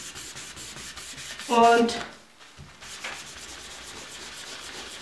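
Kitchen paper towel rubbed over a stamped vintage card to polish it, a short close scratchy rubbing burst lasting about half a second, followed by faint softer strokes and a brief spoken word.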